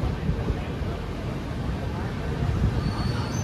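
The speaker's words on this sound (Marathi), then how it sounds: "मित्रांनो, आपण पोहोचलो आहोत यादगिरी रेल्वे स्टेशनला" A crowded platform at Yadgir railway station with a train present, giving a steady, moderately loud rumble of rail noise and a faint high squeal, under a constant murmur of crowd chatter.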